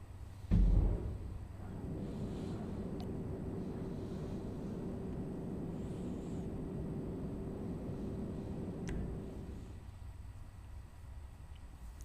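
Steady airplane engine drone in flight in Grand Theft Auto 5 on PS3, a continuous even roar with a low hum held near and constant, a brief thump at the start and the tone thinning out near the end.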